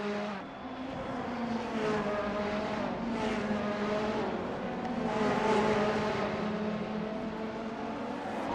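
Race cars in Assetto Corsa, 2021 SF at Sebring, cross the finish line with a steady, loud engine drone and rising and falling swells as several cars pass close by.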